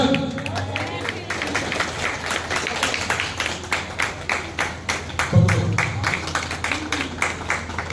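An audience at a Janmashtami gathering claps together in a rhythmic series of sharp, fairly loud claps, steady and repeated across the whole stretch, with a murmur of voices underneath.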